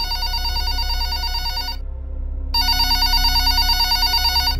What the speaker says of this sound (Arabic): وفجأة جوالي جلس يرن